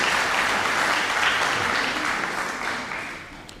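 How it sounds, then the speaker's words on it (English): An audience at a St. David's Night dance contest breaks into loud, dense applause for a contestant, a full wash of clapping that slowly tapers off toward the end. "he definitely deserves a round of applause for that"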